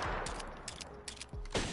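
Rapid gunfire in Apex Legends, a burst of sharp shots in quick succession with a few heavier bangs, loud and close, with no talking.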